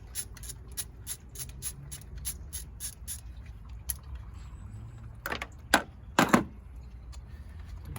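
Ratchet clicks loosening the thermostat housing bolts on a 2011-2015 Dodge Durango, a quick run of evenly spaced metallic clicks at close range, then a few louder clanks of tools and metal near the end, with no talking.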